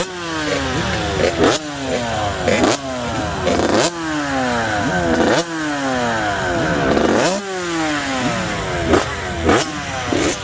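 Mini and 85cc motocross bikes rev hard on a dirt track, their high two-stroke-style whines rising and falling repeatedly as several machines accelerate and shift, loud and overlapping, with no talk.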